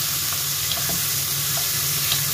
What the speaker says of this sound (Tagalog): igilisa ko na yung mga rekado mga mare ko